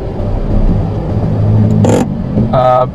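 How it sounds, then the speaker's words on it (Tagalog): Car pulling away uphill with the clutch at its biting point, a low steady engine rumble rising under gas, with a brief burst of higher noise and a short whine near the end. "then magbibigay na ako ng gas para umarangkada yung ating sasakyan"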